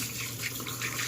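Water runs steadily while conditioner is rinsed out of hair, a faint, even splashing hiss with no talking.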